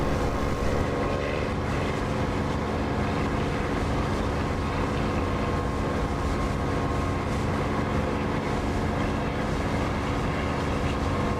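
A warplane engine runs at full throttle in the DCS flight simulator, a dense, loud, unbroken drone with a steady hum and no variation or voices.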